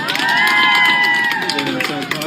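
A restaurant crowd cheers and shouts in a short, loud burst of mixed voices for a birthday at a Hooters, with some clapping blended into the noisy cheer.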